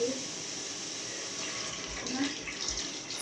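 Water pours steadily into a cooking pot in a home kitchen, a close, continuous splashing rush that lasts the whole time.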